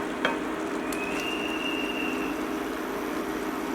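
Soya curry with garam masala sizzles steadily in a pan while being stirred, a constant close frying hiss with one sharp knock near the start and a faint thin tone.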